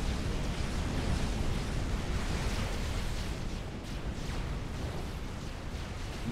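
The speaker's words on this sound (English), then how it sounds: "He's just receiving some long-range cruiser fire." Long-range cruiser fire in a Supreme Commander 4v4 battle, heard as a steady, dense roar of distant bombardment that rumbles continuously with no distinct separate blasts.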